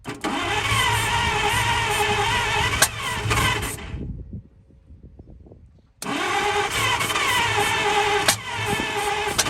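A 1939 International fire truck engine tries to start, giving a loud, rough mechanical roar that cuts out for about two seconds into faint rattling, then bursts back in at full volume.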